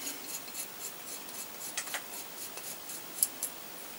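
A bolt being wound by hand into a helicoil thread insert, giving faint, soft scraping and ticking clicks in an irregular run, close and quiet with no talk.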